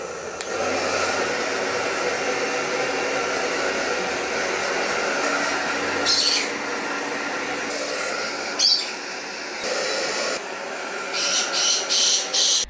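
A low-wattage hair dryer runs continuously with a steady whirring blow, its tone shifting briefly now and then as it moves, up close.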